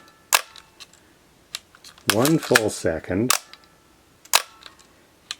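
A Kalimar KX7000 35mm film SLR camera fires its shutter in several sharp, separate mechanical clicks, some standing alone and others closely spaced. Someone talks between and over them.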